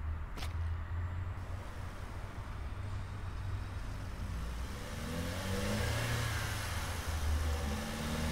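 Pickup truck engine in a recycling center simulation game, running and revving steadily under a continuous hum with low rumble throughout, with no talking.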